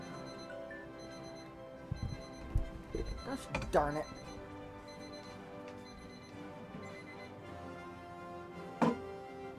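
Alert chimes in a strategy video game, a few short tonal beeps sounding over quiet background music, with a man muttering briefly in between.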